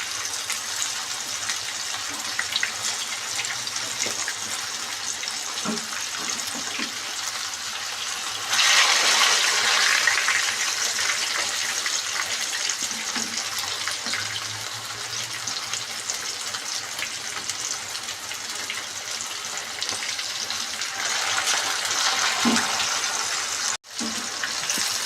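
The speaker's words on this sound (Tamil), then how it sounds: "இந்த மீனை நம்ம நல்லா கிறிஸ்பியாகவே பொரிச்சு எடுத்துக்கலாம்." Fish frying crispy in hot oil for fish biryani, a steady, close hiss and sizzle that swells louder for a stretch and carries on throughout, alone with no talk.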